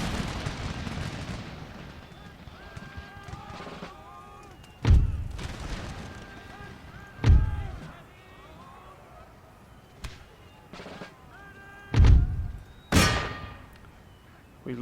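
Musket and artillery fire in Empire: Total War, several heavy booming blasts spaced a few seconds apart over a bed of distant crackling volleys, with a voice talking between them.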